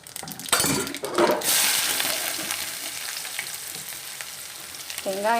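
Mustard seeds and onion fry in hot oil with a loud, dense crackling sizzle. A few sharp bursts and pops come at the start, then it settles into a continuous close frying hiss with faint utensil clinks.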